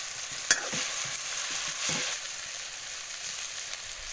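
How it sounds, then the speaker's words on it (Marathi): Sprouted mung beans and pods are stirred and sautéed in a pan over a wood-fired chulha, a soft continuous sizzle with light scraping stirs and an occasional sharp clink of the spoon. "हे मूग आणि शेंग टाकते जरा परतून घेते"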